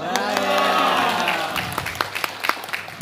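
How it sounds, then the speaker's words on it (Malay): An audience at a Minang comedy show claps loudly and steadily, then the clapping thins out into a few scattered, separate claps as it dies down. "Tepuk tangan sudah."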